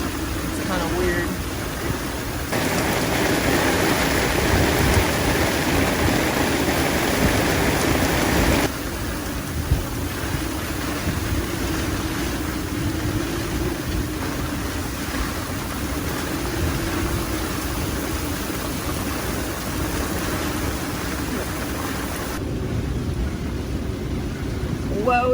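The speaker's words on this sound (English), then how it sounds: "The rain's actually let up a little bit." Steady heavy rain from Hurricane Erin pours down for the whole stretch, a dense hiss that swells and eases slightly, with a voice talking underneath.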